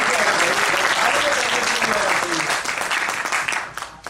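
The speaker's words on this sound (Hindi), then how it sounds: "जोरदार तालियां" Loud, dense applause from an audience at a staged quiz-show play, sustained clapping that thins out and fades toward the end, with faint voices mixed in.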